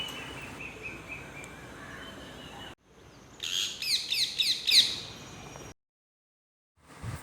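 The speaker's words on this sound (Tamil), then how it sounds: "எங்கள் வீட்டுக்கிட்ட ஒரு கிளி வந்துச்சுங்க. அதோட வாய்ஸ் ரொம்ப ஸ்வீட்டாக இருந்துச்சுங்க." A parrot calls near a house, a burst of bright, repeated chirping notes rising in the middle of the stretch, set against steady outdoor background noise and followed by near silence.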